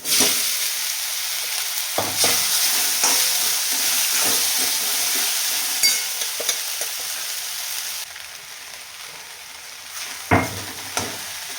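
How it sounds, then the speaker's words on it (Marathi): Sabudana and red chilli powder frying in hot oil: a loud continuous sizzle with stirring scrapes and a few sharp clanks of the spoon, easing slightly near the end, no one talking. "आता तेलामध्येच लाल तिखट टाकून घ्यायचं आहे आणि आता टाकू साबुदाणा"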